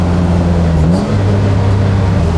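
A BMW E36 track car's engine revving hard while drifting through a corner, a loud, close, sustained engine drone whose pitch drops and then climbs again midway, with no talking.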